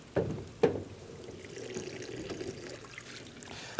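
Water dumped out of a film developing tank during washing, two sharp splashy gushes near the start then a soft lingering trickle, quiet and close.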